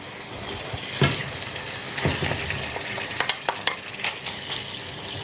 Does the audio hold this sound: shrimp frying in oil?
yes